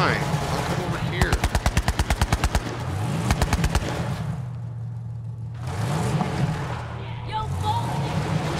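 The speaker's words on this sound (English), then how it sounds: "He's shooting at me." Enemy gunfire in Borderlands 3, two quick rhythmic bursts of automatic shots over a droning vehicle-like engine hum, with a voice talking over the action.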